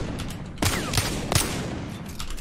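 Hand cannon gunshots in Apex Legends fire as three loud, sharp, close-range blasts spaced roughly evenly, with ambient game noise between them and no talk.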